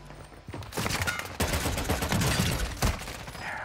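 Rapid bursts of dual akimbo guns hip-fired in Warzone, loud and close, with dense overlapping shots in several clusters separated by brief pauses.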